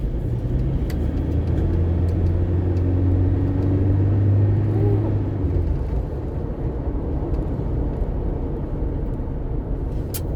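Toyota Fortuner VNT G SUV accelerating, a loud steady diesel engine drone with rising then easing rumble, heard close from inside the cabin with no talking.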